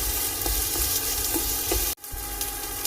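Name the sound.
onions sautéing in a pan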